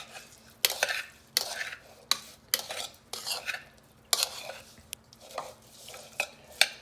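Shrimp being stirred to coat them evenly in a seasoning mix for Mediterranean-style sautéed shrimp, heard as a dozen or so close, crisp scraping strokes in an uneven rhythm, with no talking.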